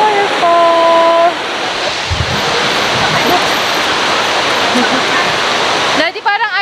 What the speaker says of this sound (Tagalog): Dito kami ngayon sa isang waterfall.